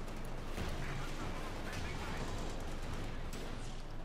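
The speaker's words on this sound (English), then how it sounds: "commanders here getting shot to bits by light machine gun equipped grenadiers" Light machine gun fire from grenadiers in Company of Heroes 2 forms a dense, unbroken wall of battle noise, steady and loud, with rapid overlapping shots for the whole stretch.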